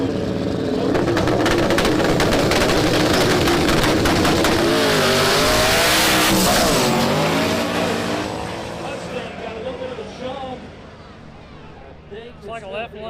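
Drag race cars at a no-prep event, a 99 SS Camaro with a 5.3 truck motor against a Ford Mustang 5.0, roar loudly in hard acceleration for about nine seconds, then fade as they run away down the track, with an announcer talking over them.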